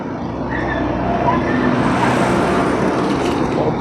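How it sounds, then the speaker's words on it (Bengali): Parked buses and passing road traffic at the Esplanade long-distance bus stand in Kolkata make a loud, continuous engine rumble and street din, close by and without a break. "সব বাস দাঁড়িয়ে আছে"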